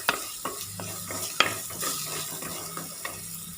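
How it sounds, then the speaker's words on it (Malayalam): Curry with jackfruit seeds being stirred in a pan, a spoon scraping and knocking against the metal in several distinct strokes over a light sizzle, close and clear. "നന്നായിട്ട് ഇളക്കി കൊടുക്കാം."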